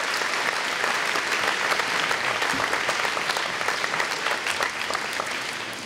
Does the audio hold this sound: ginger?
no